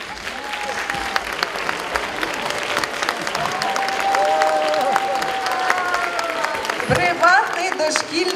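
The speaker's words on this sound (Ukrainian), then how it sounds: "ваші оплески їм будуть зовсім незайвими" An audience claps for children performing on stage for the first time at a talent show, loud continuous applause with scattered cheers and a high tone running through it, as someone speaks over the noise.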